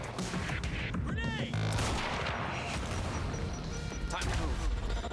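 Sniper fire aimed at an enemy sniper in Quantum Break, sharp gunshots and smashing impacts amid continuous battle noise, with someone talking over the shooting.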